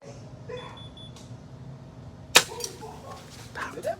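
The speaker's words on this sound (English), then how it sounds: "You got some new hollow points for the airsoft." An airsoft gun loaded with hollow-point rounds fires at a Taylor Port wine bottle: a single sharp, close crack of the shot and impact stands out midway over quiet outdoor background noise.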